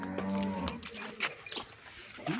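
A Friesian cross cow gives a loud, close moo at the start, followed by shorter grunting calls and rustling.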